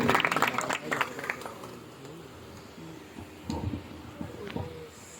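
A church congregation claps loudly during a Christian worship service, a burst of applause that soon fades under a voice speaking.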